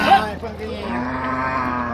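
Cattle low at a livestock fair in Tabira, Pernambuco, Brazil, with one long, clear moo from a nearby animal standing over a faint background murmur.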